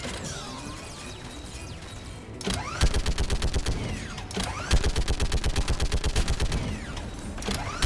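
A turret in the Mass Effect 3 video game fires long bursts of rapid machine-gun shots. The rounds come as loud, evenly spaced rattling volleys after a quieter mechanical buildup, with metallic whirring between bursts.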